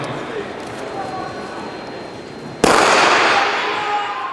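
A starting gun fires at the start of a women's track race, a single sharp crack partway through, followed by a swell of crowd noise in a stadium setting, with a voice speaking earlier.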